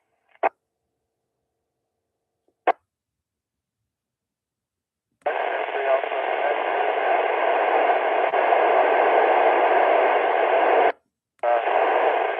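Two faint clicks, then a steady hiss of radio static for several seconds, briefly cutting out before resuming, with a weak transmission buried in the noise.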